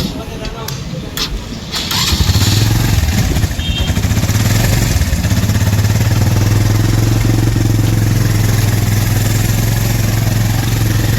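A used Suzuki GS 150 motorcycle in a showroom cranks and catches, then settles into a loud, steady close-up idle with clattery, slightly uneven firing; someone talks briefly before it starts.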